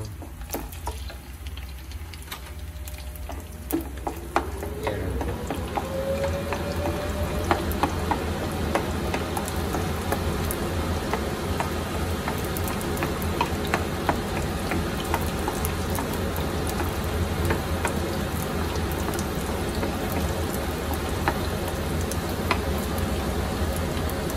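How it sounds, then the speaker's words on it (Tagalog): Garlic sautéing in hot oil in a pan for chicken sotanghon soup, a sizzle that starts softly and then holds as a steady, close crackling hiss with occasional stirring clicks. "igigisa lang natin yung bawang"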